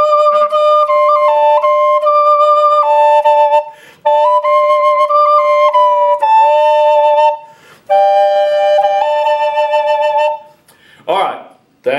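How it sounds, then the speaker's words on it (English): Two Native American flutes played together, one carrying a wavering, stepwise melody while the other holds a steady drone beneath it, the phrases breaking off with brief pauses and ending in a short breathy burst. "you add the drone part, it sounds like this."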